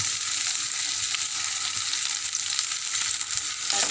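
Onions frying in ghee in a pan for mutton curry, a dense, even hiss of sizzling that stays steady and close for several seconds with faint stirring underneath.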